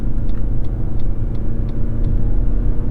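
A 2022 Lexus NX 350h hybrid SUV accelerates smoothly onto a 55 mph road, giving a steady, loud, close engine and road rumble with a mild rising drone and no talking.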